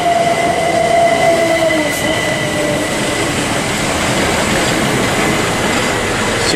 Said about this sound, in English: there's Southeastern Electrostar